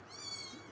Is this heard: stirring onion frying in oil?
no